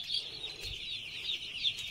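Chicks at a broiler farm surrounded by floodwater cheep in a steady, high-pitched chorus, with a few louder peeps standing out over a continuous faint background hiss.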